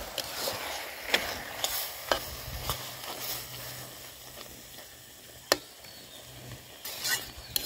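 Taro stalks are stirred with prawn masala in a pan: a steady soft sizzle beneath repeated spatula scrapes and taps at irregular intervals, close and moderately quiet.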